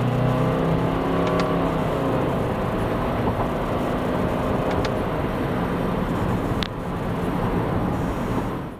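Steady engine drone with rising tones as a Subaru with a CVT automatic in manual mode speeds up merging onto a freeway, heavy road and wind noise throughout.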